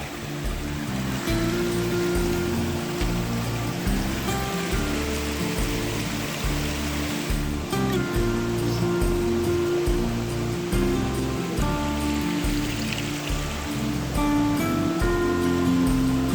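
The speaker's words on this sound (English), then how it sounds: "Good flowing water." A stream on the Appalachian Trail rushes by close at hand, a steady, dense wash of flowing water that continues without a break.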